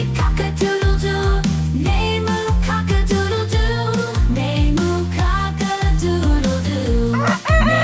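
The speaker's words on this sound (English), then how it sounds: "The roosters on the farm say cock-a-doodle-doo." A rooster crows repeatedly over a bouncy musical backing with a steady rhythm, the calls loud and close in a children's farm-animal song.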